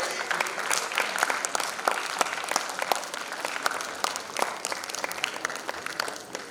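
Audience applause at a homoeopathy conference in India, a moderately sized crowd clapping with distinct individual claps audible, steady and lively for several seconds.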